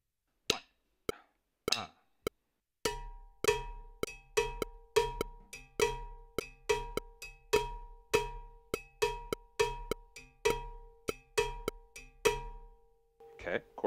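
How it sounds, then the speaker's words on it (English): Cowbell playing a cascara pattern for a Mozambique groove, a few sparse opening strikes followed by a steady, driving run of bright metallic hits. The hits are close and clear, with no voices over them. "it's based on a cascara on the cowbell"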